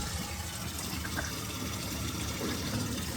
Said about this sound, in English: I know it pushed a load of water out